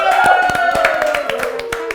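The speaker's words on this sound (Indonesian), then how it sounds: "Boleh kasih tepuk tangannya dulu?" Brief audience clapping for guest actors on an Indonesian talk show, a handful of sharp claps over sustained background music, lasting about two seconds.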